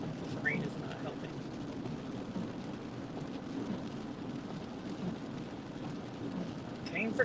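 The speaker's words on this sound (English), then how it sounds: "This rain is not helping." Steady rain falls during a winter storm, a dense, even wash of hiss that holds for the whole stretch at moderate loudness, with a few brief brighter sounds near the start and the end.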